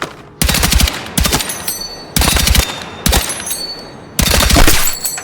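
DRS-IAR light machine gun firing in a shooter video game, heard as five loud, close bursts of rapid automatic fire separated by brief pauses, with no talking.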